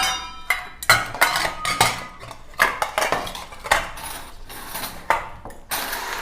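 Steel plates and glasses set down one after another on a hard surface, a regular series of close, bright metallic clinks and clatters with brief pauses between each.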